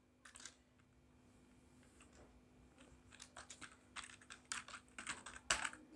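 Computer keyboard keys being typed in quick, irregular bursts, sparse at first and then denser and louder toward the end, close up with no talking.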